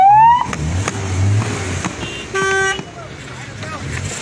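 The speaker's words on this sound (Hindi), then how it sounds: "ये देखो कितनी गाड़ियां हैं" Many cars and vehicles crowd a road around a man's arrest, with engine rumble and short horn toots close by, under continuous excited talk.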